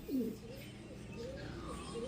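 Soft low cooing from a racing pigeon repeats a few times over steady faint background noise.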